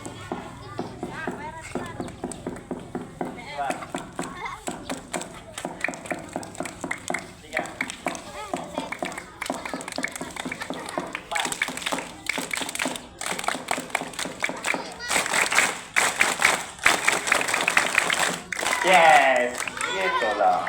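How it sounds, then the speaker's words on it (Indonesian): A group of schoolchildren claps in rhythm, starting with one-finger taps and building up, the patter growing denser and louder toward the end while an adult talks over it. "Tepuk mulai dari satu jari."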